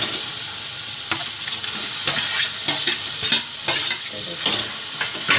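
Eggplant goes into a cooked-down tomato gravy for baingan bharta and is stirred in a pan, giving a steady close sizzle with repeated scraping spoon strokes and no talking.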